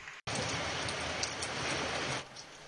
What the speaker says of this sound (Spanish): Este es el sonido de la lluvia en Valle de Guerra.